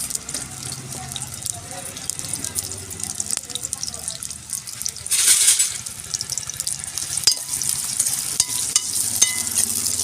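Onions and green chillies fry in hot oil, a steady crackling sizzle with stirring clatter and a brief hissing burst midway; no speech stands out.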